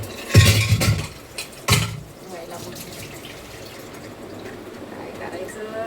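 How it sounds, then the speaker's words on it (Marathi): Water is poured into a pressure cooker in a home kitchen in two brief splashing bursts near the start, then fades into quiet room sound. "कुकरमध्ये पाणी घालून ठेवते."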